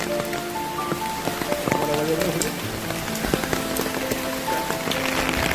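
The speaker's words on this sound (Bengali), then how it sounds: "আজকে বৃষ্টি মাথায় করে এসছি আমি" Rain falls steadily over a waterlogged street, making a continuous close hiss of drops on wet surfaces, with faint background voices and small scattered sounds.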